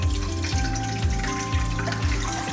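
Clean water rushing and gurgling steadily through a kitchen sink drain that has just been unclogged, flowing continuously close by with a rhythmic sloshing pulse and no voices.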